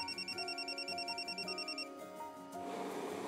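An electronic phone ringtone trills in steady repeating pulses for about two seconds, loud and close, then stops as a voice and room noise take over, in an Indonesian TV drama.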